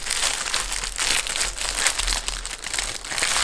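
Packaging being torn and crinkled open from a card play mat for a Wankil card pack, with loud, close plastic crumpling in irregular bursts that run throughout, no talk.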